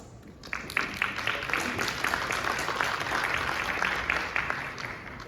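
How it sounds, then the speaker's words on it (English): Conference audience at a space industry panel discussion welcomes the panelists with a round of applause that swells after a brief quiet start, then holds as a steady crowd clap at moderate volume. "now let's welcome them once again with a big round of applause."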